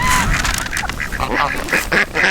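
Ducks quack loudly and close by in a rapid, overlapping series of calls, heard outdoors during an attempt to catch one with a net.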